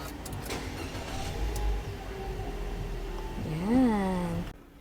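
A 2024 Mitsubishi Xpander Cross starting from inside the cabin, a steady idle hum with a rising whine as the engine catches, heard up close with no talking.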